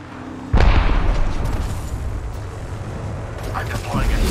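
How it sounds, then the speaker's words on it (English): An arc star grenade detonates in Apex Legends with a sudden loud, close boom that rolls into a long crackling, rumbling tail lasting several seconds. "Arc star delivered."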